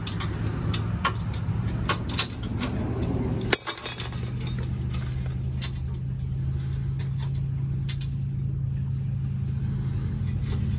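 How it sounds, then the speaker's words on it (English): Metal safety chains on a travel trailer hitch with weight distribution bars being unhooked outdoors, scattered light clinks and jangles with one sharper metallic clank, over a low steady hum. "Go ahead and release your chains."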